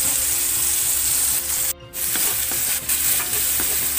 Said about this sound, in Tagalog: hayaan mo na natin maprito-prito.